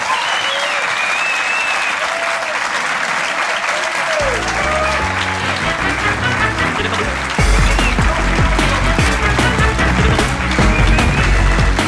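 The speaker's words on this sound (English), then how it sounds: "will you please give a massive round of applause for Tiny Alex Horne?" A theatre audience at a live podcast recording at Leicester Square Theatre gives loud, sustained applause with dense clapping throughout. The clapping grows fuller partway through, with faint cheers and music mixed in.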